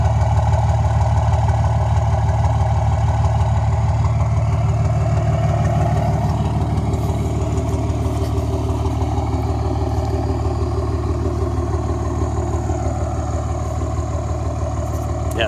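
Diesel engine with freshly rebuilt common rail injectors idling steadily up close, a continuous low clattering rumble with an uneven beat from a misfiring cylinder, no voices.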